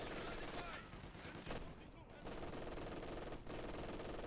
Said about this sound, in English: Overlapping machine guns here is ISU.